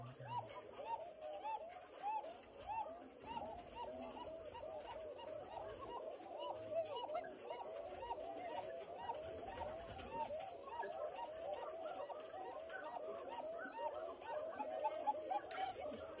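Breeding birds paired up before laying eggs call in a repeated rhythmic cooing that carries on throughout, close and clear, while a person talks nearby.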